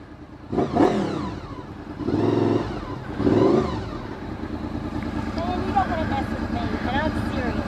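A motorcycle engine revs in surges, loud and close, with voices talking over the rumble.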